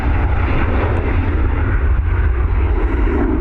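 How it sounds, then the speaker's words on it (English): A Bombardier Global 6000 business jet at Dublin Airport produces a loud, steady, broadband engine roar with heavy low rumble, continuous and close throughout the few seconds. "Beautiful sights there of that Bombardier Global 6000."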